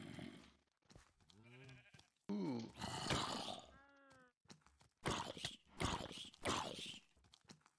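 Sheep bleat in a Minecraft survival game around an animal pen, a string of short nasal calls with gaps between them, fairly close and with no voices.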